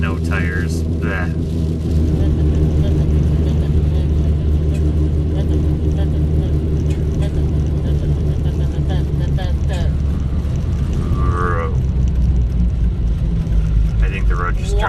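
Deep, steady low rumble of tyre and road noise inside a car on snow tires, loud and continuous throughout, with people talking over it.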